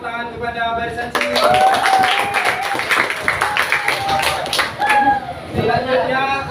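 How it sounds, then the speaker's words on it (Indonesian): A row of students in a classroom lesson applauds, a burst of rapid clapping lasting several seconds, with people talking over and after it. "beri tepuk tangan kepada barisan sini"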